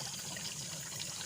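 Clear, cold spring water wells up from the ground on a riverside farm lot, a steady, close rushing trickle with no pauses.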